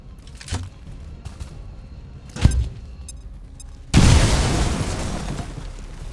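Bombs detonate in XCOM Long War of the Chosen, a loud, broad blast erupting after a few sharper pops and thuds, then a sustained rumbling roar that slowly fades.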